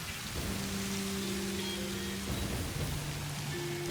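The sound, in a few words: rain and thunder in the video game Satisfactory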